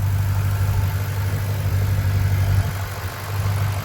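A 2009 Ford Mustang GT V8 idles close by, its steady low rumble carrying a strong droning hum with a slight lope, continuous and loud with no talk.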